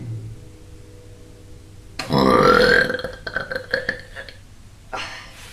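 A loud, long, guttural burp erupts close up and rumbles for about a second, trailing into a few rough croaks, then a shorter burp follows; no talking.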